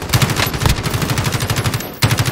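Rapid automatic gunfire rings out in Call of Duty Warzone during a trios battle royale ambush, a dense burst of close shots with a brief break near the end before firing resumes.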